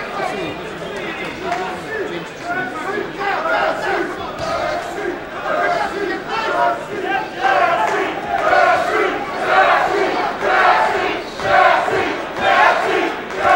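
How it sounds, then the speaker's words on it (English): Boxing arena crowd during a Jesse Reid Jr. versus Robert Green bout, a loud, dense roar with rhythmic chanting surging throughout, steady and close, with no clear individual voices. "Crowd is chanting Jesse, Jesse."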